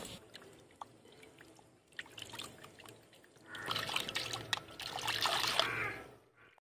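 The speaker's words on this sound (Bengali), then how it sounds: "এবার একটা ঝুড়ির মধ্যে তুলে তারপর ভালো করে জল দিয়ে মাছগুলো ধুয়ে নেব" Water pours and splashes over pieces of cut Dover sole being washed in a basket, with light trickling at first and then a louder, busier rush of splashing.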